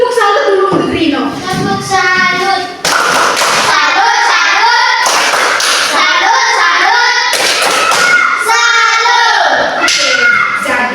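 A primary school class performs the rhythmic 'tepuk salut' clap, with sharp bursts of group clapping alternating with children chanting and a teacher's voice, loud and close.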